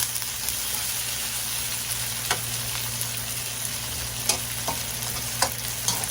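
Chicken pieces fry in oil in a pan for afritada, a steady close sizzle with occasional light pops and clicks of stirring, no talk over it.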